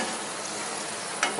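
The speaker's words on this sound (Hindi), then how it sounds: "अब प्याज हो चुकी है गोल्डन ब्राउन, गोल्डन ब्राउन होने तक उसको फ्राई करना है" Onions frying until golden brown for a restaurant-style paneer masala gravy, heard as a brief, steady, close hiss of sizzling with a small scrape near the end.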